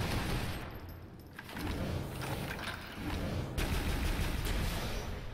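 Assault rifle gunfire in the arena shooter Toxikk, dense rapid bursts of shots with thuds and booms layered in a loud, continuous barrage.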